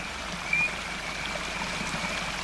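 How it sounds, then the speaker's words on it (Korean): A small, cold mountain stream flows steadily and continuously, a close, even watery rush with faint trickling detail and no voices. "하지만 이 개울은 얼지 않습니다."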